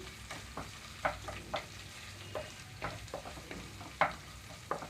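Ginger garlic paste fries with browned onions over a low flame for ivy gourd and chana dal curry, a steady soft sizzle broken by repeated scraping stirs of a spoon against the pan, close and without any talk.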